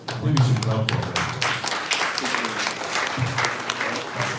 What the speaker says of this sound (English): Maybe we should clap for that.